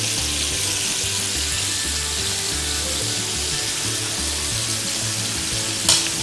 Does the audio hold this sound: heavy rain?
no